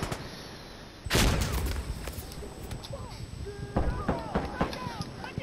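Gunfire in Insurgency Sandstorm, with sharp close shots and a loud burst partway through, over voices and game noise.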